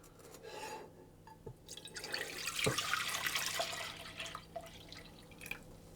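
Vanilla extract and milk are poured into a saucepan, producing a close, soft splashing and trickling pour that swells in the middle and tapers off with a few drips.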